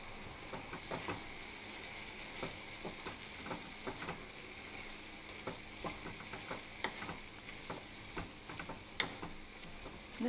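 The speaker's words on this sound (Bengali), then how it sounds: "এবার আমি নাড়তে থাকবো।" Spiced neem leaves and brinjal sizzle steadily in a pan, with faint scrapes and taps of stirring scattered throughout, quiet and close, no talking.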